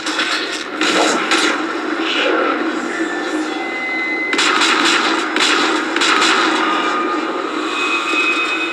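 Rapid gunfire and explosive bursts crackle through a chaotic Mass Effect 3 battle, sustained and fairly loud with sharp repeated shots over a roaring background.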